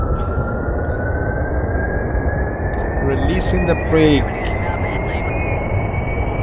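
In Kerbal Space Program, an MK1 plane's aircraft engine spools up for takeoff, a steady whine climbing slowly in pitch beneath a constant engine rumble while someone talks over it.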